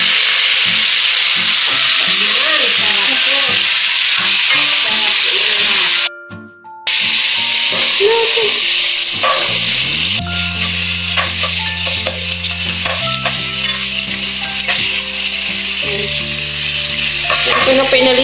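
Meat and onions fry in a lot of oil while being stirred for ginisang ampalaya, giving a loud steady sizzle with scraping and clattering of a utensil. The sound cuts out for a moment partway through and a low mechanical hum joins later.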